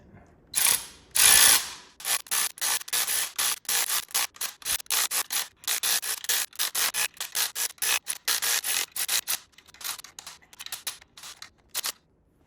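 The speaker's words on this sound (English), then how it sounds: "Now I'm just gonna go around and tighten them evenly, slowly to press this in." A ratchet tightening flywheel bolts on a Porsche Cayman engine to press in the rear main seal, giving sharp, rapid clicking strokes in repeated bursts with brief pauses between them, close and alone with no talk.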